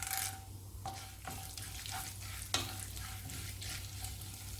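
Fennel seeds, cumin and black pepper fry in hot oil in a pan for a Chettinad chicken white kurma, giving a steady close sizzle with a few scraping stirs and light clinks, no talk.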